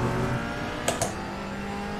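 A GT4 race car in iRacing enters the pits at Oulton Park, its engine holding a steady loud drone with two brief sharp clicks near the middle, close and continuous, with no talking.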